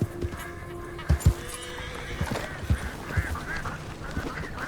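A horse in Red Dead Redemption 2 gives a short whinny amid in-game ambience, with soft hoof clops and scattered animal calls nearby at moderate volume.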